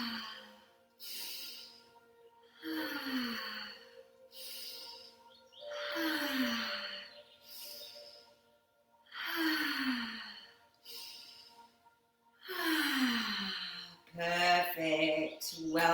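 Children doing a breathing exercise, with slow, deep breaths in and out repeated about five times in an even rhythm and soft gaps between them.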